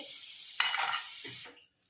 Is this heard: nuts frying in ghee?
yes